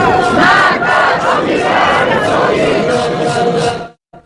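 A massive street crowd of thousands at a funeral procession for Iranian commanders, roaring and chanting in loud surging waves with rhythmic shouted slogans, close and continuous before cutting off abruptly near the end.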